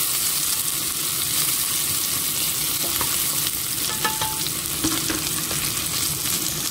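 Onion frying in a pan, a steady dense sizzle holding at even loudness throughout with faint stirring scrapes over it, close up and with no voices.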